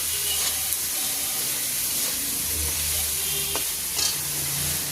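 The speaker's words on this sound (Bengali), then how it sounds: "এরপরে ফুলকপিটাও দিয়ে দিলাম, দিয়ে কষাবো।" Cauliflower sautéing with tomato in a hot pan, a steady close hissing sizzle throughout with a few brief clinks and scrapes of stirring.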